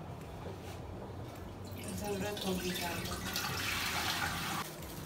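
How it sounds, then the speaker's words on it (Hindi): Water is poured from a jug into a biryani pot holding potatoes, salt and whole spices, a steady splashing rush that starts partway through and runs to near the end, with someone talking over it. "एक जग से पानी डालेंगे जितना"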